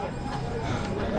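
Horse hooves clip-clop on the mountain trail to Kedarnath during the pilgrimage, a continuous close clatter mixed with crowd noise, with people talking over it.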